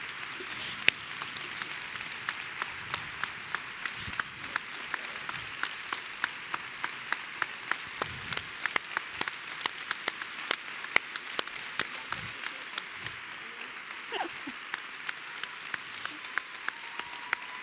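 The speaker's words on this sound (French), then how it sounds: "je vous remercie de conclure avec moi par un tonnerre d'applaudissements pour Léa Lassara" Sustained audience applause at a women's leadership forum, steady dense clapping from a crowd filling the room with sharp individual claps standing out, continuous throughout with no talking.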